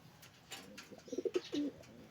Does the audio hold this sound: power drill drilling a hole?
no